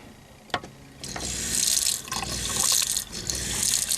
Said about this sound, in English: That's the most I can get, even with both faucets open.